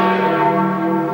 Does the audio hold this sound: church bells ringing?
yes